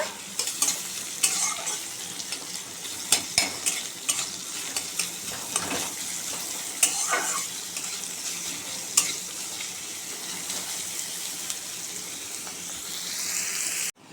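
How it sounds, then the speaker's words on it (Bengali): Chopped onions fry in hot oil tempered with nigella seeds in a wok, giving a steady close sizzle punctuated by frequent scraping and clattering stirs, busy early on and then settling into a smoother crackle. "পেঁয়াজটা একটু ভাজা ভাজা আগে করে নেব।"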